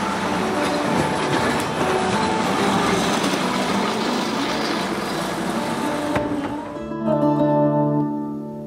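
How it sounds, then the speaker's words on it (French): A Lisbon tourist tram pulls out of the Carris depot, its loud steady rumble and rolling wheels close by, ending in a brief screech and clatter before the noise drops off. "le tram touristique juste en train de sortir"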